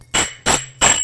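Finger cymbals for belly dance ring in three bright metallic strikes in a quick gallop rhythm, close and loud, each with a short shimmering decay.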